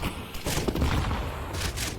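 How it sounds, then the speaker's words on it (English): A grenade goes off in Counter-Strike during a pro esports match, heard as a short burst of loud booming and crackling game sounds in close succession. "Oh, what a nade."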